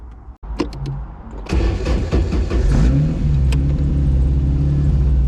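A Porsche 550 Spyder replica's engine cranks with a click, catches and rumbles into a loud idle, with a few sharp revs close by before settling into a steady throaty run.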